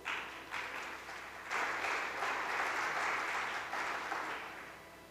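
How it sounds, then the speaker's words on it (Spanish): An audience at an artificial intelligence forum in Madrid's Casa de Campo applauds to welcome a speaker, with the clapping swelling after a brief start, holding steady and then tapering off at a moderate distance. "con un fuerte aplauso recibimos al doctor J.P. Zinn."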